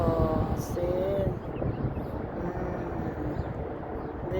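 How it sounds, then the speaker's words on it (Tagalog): Strong wind buffets the microphone outdoors at a scenic spot, a steady low roaring rumble lasting throughout, with faint voices underneath. "Lakas pa ng hangin."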